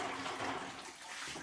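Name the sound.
cold water poured into sugar syrup for feeding bees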